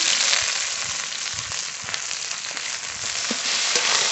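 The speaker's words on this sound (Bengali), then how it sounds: "একসঙ্গে একটু ভেজে নেব" Cut okra frying in hot oil with salt and turmeric, giving a steady close sizzle that carries on without a break, with faint occasional scrapes of stirring. No voices.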